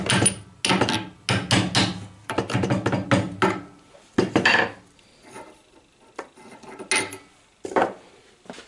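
Repeated hammer blows driving a steering ball joint out of a Citroën Traction 11/15 steering arm propped on a wooden block, sharp loud metallic strikes in irregular bursts with short pauses, no talking.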